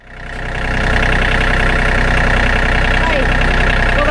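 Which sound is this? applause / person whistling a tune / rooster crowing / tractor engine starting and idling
tractor engine starting and idling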